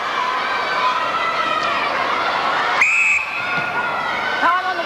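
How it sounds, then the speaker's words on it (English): A referee's whistle blows once, sharp and piercing, at a 1996 Mobil Super League netball semi-final between Adelaide Contax and Melbourne, rising over steady crowd noise and a commentator's voice. "Time on the whistle."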